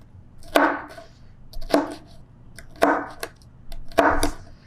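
A knife chops peppers on a cutting board for beef chili, four close, distinct strokes spaced about a second apart, each a sharp crunchy thunk, with no talk.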